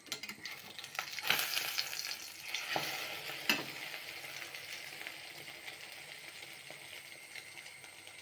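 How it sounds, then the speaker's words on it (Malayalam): A pan sizzles steadily with an egg frying, a few clinks and scrapes of a utensil stirring near the start. "മുട്ട പൊരിച്ചുകൊണ്ടിരിക്കുകയാണ്"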